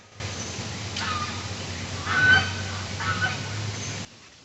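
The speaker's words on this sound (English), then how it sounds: "That family of geese is just yelling at traffic" A family of geese honking loudly over a constant low rumble of passing traffic, with the calls clustering in a few bursts.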